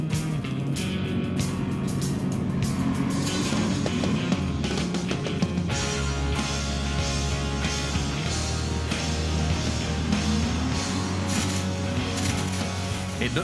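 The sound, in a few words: off-road vehicle engine driving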